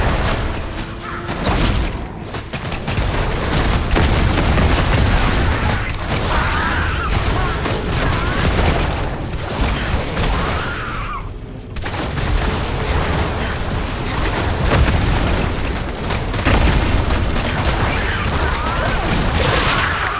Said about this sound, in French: ça a explosé là